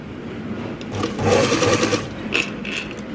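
A sewing machine stitches a thin gota border onto a saree-cloth blouse, running in a steady, fairly close whir that swells and eases over a few seconds with no talking.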